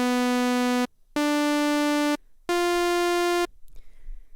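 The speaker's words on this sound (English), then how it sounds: "like a sawtooth wave," Synthesizer sawtooth wave tone: three bright, buzzy sustained notes of about a second each, separated by short gaps and stepping slightly upward in pitch, rich in harmonics.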